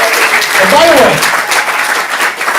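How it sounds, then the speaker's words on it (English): Audience applause at a stand-up comedy class showcase, a steady wash of clapping filling the room while someone talks over it. "Give them all a round of applause."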